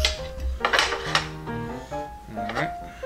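Ceramic and metal kitchen dishes knock and clink as a second bowl is pulled out for beating an egg, several sharp ringing hits with scraping in between, close by.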